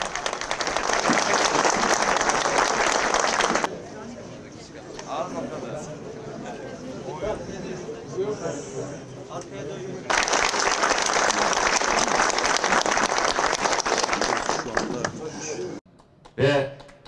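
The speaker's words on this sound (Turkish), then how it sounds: "Alkışlarla hoş geldiniz diyoruz Sayın Bakanımıza." An audience applauds to welcome Turkey's justice minister at an Istanbul event, with loud clapping that drops away into quieter crowd noise and then returns strongly before fading at the end.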